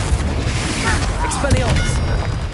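A Confringo blasting spell detonates in Hogwarts Legacy combat: a loud, dense, rumbling boom with crackling debris that fills the whole short stretch, voices mixed in.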